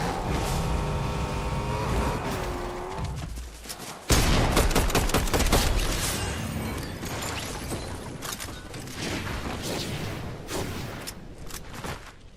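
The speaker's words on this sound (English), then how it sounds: "As I started getting shot here, I knew that I was going to have to reposition" Gunfire in a building-style video game while the player takes hits, a rapid volley of sharp shots with engine-like whine early on and a sudden burst of louder fire midway, continuing in scattered bursts.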